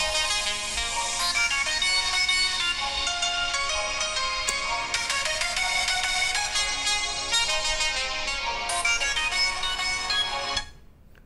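A Realme Narzo 10A phone speaker plays a melodic ringtone in a speaker test, bright and continuous for about ten seconds before cutting off abruptly, with no talking.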